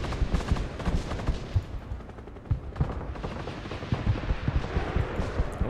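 Rapid autocannon and gunfire bursts from a BMD vehicle in the military game Broken Arrow, dense repeated thuds and cracks continuing throughout amid battlefield noise.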